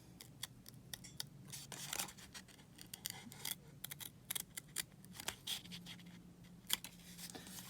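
Scissors snip through card for handmade card making in a rapid string of crisp, close cuts. The cuts are quiet and irregularly spaced, with no voices.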